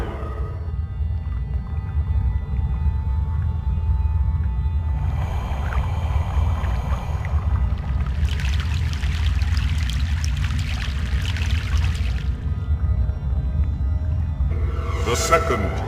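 A river crossing by boat in Egypt in the game Broken Sword: The Sleeping Dragon: continuous low rumbling water with pouring, trickling surges rising midway, then a short splashy flourish at the close.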